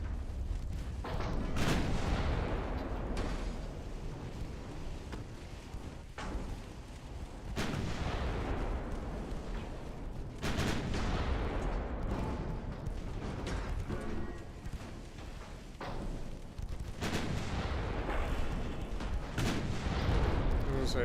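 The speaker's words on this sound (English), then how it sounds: "Another torpedo detonation." In the naval game Ultimate Admiral Dreadnoughts, torpedo detonations and heavy naval gunfire roll out as repeated deep booms over a dense, continuous rumble, loud and sustained, with someone talking in between.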